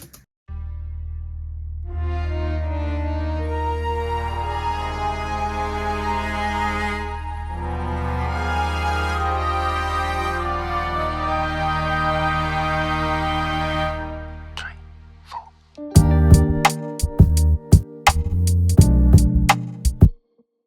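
Orchestral samples, double bass and the full orchestra, play the second half of a theme in long sustained, massive chords that swell and fade, followed by a burst of sharp, punchy percussive hits near the end.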